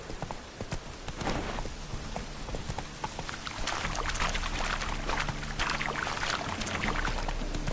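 Roach the horse from Witcher 3 clip-clops along at a steady walking rhythm, the hoof beats fairly close and mixed with a constant outdoor wash of ambient game sound.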